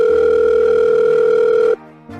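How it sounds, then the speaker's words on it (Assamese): A steady electronic telephone tone holds for almost two seconds, then stops, and a short burst of the tone returns after a brief gap. "পাৰ্থলৈকে ফোন এটা কৰি চাওঁ"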